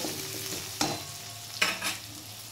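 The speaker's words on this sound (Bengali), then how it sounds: "এবার আমি এটা একটু ভাজা ভাজা করে নেব আর ঢাকা দিয়ে দিয়ে একটু সেদ্ধ করে নেব।" Potatoes fry in a pan that is later covered, giving a soft, steady sizzle with two brief scraping stirs.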